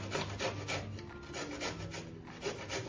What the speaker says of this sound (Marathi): आता मी किसून घेत आहे।